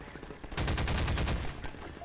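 Rapid automatic gunfire in Half-Life 2, a loud burst of about a second of fast repeated shots, starting abruptly after a quiet lead-in and trailing off.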